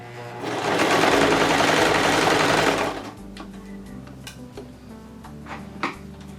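A sewing machine runs a steady burst of stitching on a sparkly dress for an 18-inch doll, a loud close whir lasting about two and a half seconds, then stops, leaving faint clicks and handling sounds.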